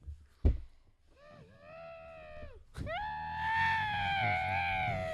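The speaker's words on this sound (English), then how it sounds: "If you listen closely, you can hear his muffled screams in the pillow." A man screams into a pillow from about fifteen feet away, two drawn-out wavering muffled wails after a sharp thump, the second rising louder and straining.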